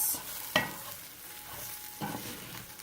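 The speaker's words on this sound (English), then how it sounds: "I'm just going to stir the Brussels sprouts with the rice" Brussels sprouts and rice being stirred in a frying pan, with two distinct scraping strokes of the utensil over a soft, steady sizzle.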